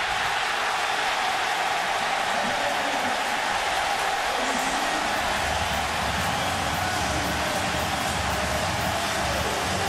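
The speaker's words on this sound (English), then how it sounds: "A sack and the crowd on its feet and roaring." Stadium crowd roaring after a sack in a 2008 Virginia Tech vs Miami college football game, a dense, sustained wall of cheering that holds steady at full volume throughout, with a commentator talking over it.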